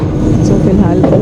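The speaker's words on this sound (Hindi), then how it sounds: "मैं अपनी सही मेट्रो में बैठ चुकी हूँ" A Paris metro train rides along its rails with a loud, steady low rumble and clatter heard from inside the car.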